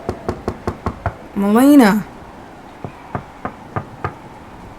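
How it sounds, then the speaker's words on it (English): Fists beat on a door in a steady run of sharp, close knocks, broken by a loud shouted call from a voice before the pounding resumes more sparsely. "Then he began to beat on the door with his fists"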